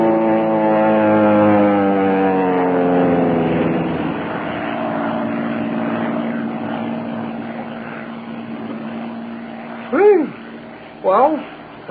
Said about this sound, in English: That plane is coming down awfully fast. Yes, it's coming right over us. Sounds like a power dive.